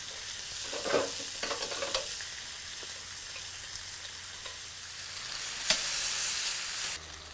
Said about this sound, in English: Now let's get those onions going.